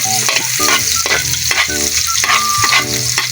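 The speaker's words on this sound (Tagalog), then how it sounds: "Isunod na natin ng bawang. Gugura-gurahin lang natin yan ng kaunti." Garlic sautéing for ginisang baka, a Filipino beef dish, sizzles steadily and loudly in a hot pan, with a spatula scraping and stirring in a repeated rhythm and no one talking.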